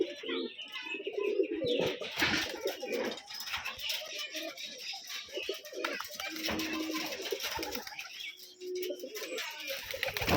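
Rajshahi giribaj pigeons at a farm give soft cooing calls with scattered chirps and an occasional wing flutter, fairly close, while someone talks over much of the sound.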